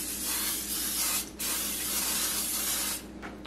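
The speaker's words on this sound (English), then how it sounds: "put a little bit of spray on the bottom" A steady hissing of cooking spray into a pan runs for about three seconds with a brief break, close up, with no talking.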